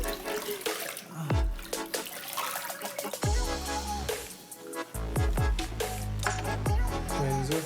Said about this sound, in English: we're gonna just start by wetting up the face